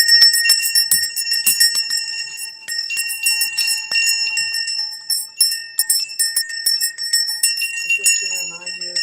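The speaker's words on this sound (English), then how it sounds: "Yes, we ring the bell for the children." A bell rings steadily and brightly up close for several seconds in a repeated ringing pattern, rung for children, with a voice briefly heard near the end.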